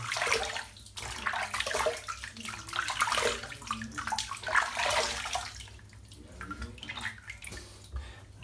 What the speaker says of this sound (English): So I'm just going to rinse my head off.